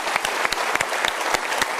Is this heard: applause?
yes